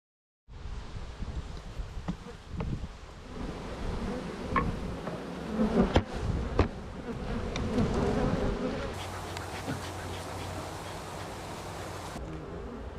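Black bees of Savoie swarm around mountain hives, making a dense continuous buzzing close by that holds steady throughout with small rises and falls.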